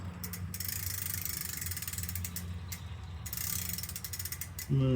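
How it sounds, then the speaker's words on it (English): Bicycle rear derailleur being shifted toward the bottom gear during maintenance, a steady ratcheting, clicking whir of the freewheel and gears running close and continuous, ending with a brief sharper sound. "So we're gonna take a shot at see if we can get it down to the bottom gear."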